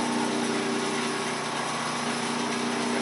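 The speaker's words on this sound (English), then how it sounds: "Here I'm trying to cut, using my gouge" A woodturning gouge shear cuts a rough-turned wooden bowl spinning on a lathe, giving a steady, loud, continuous hissing whir with no pauses.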